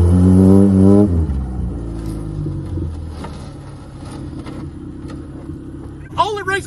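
A 90-horsepower vehicle engine labours loudly up a grassy hill, its harmonic roar dropping in pitch as it bogs down, then rumbling steadily lower while someone talks briefly near the end.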